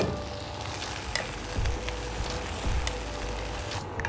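Chopped carrots and onions sweat in oil in a pan for a scouse stew, giving a steady, close sizzle and crackle with a few stirring knocks and scrapes, and no talking.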